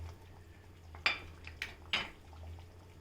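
Spoon knocking against a cooking pot while sambar is mixed, three sharp metallic clinks spaced about half a second apart over a quiet background hum.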